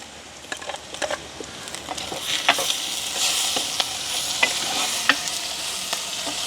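Chopped tomatoes are fried with garlic, onion and green chillies in a pan. A steady close sizzle continues under repeated scraping stirs from a spoon.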